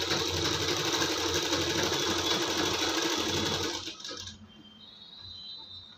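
A sewing machine runs fast and loud, stitching together the edges of a blouse lining, then stops abruptly, leaving a quieter room with a faint whine after it.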